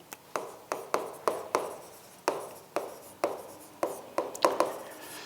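Pen writing on paper in a law lecture, a series of about sixteen short, crisp scratching strokes in uneven bursts, close and clear with no talk over them.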